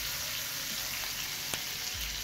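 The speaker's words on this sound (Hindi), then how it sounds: "तो इसे मीडियम फ्लेम पे हम पकने देंगे। प्याज को हमें ज़्यादा नहीं पकाना है" Onions and curry leaves fry on a medium flame for a South Indian tomato-onion chutney, giving a steady, close hiss of oil with a light clink partway through.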